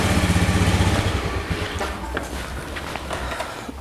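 An automatic scooter-style motorcycle rolls up with a throbbing engine that is loud at first, then eases toward idle while faint footsteps and clatter follow.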